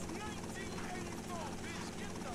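A helicopter in the Vice City Stories video game whirs with a steady rotor drone throughout, running continuously under a voice as he talks.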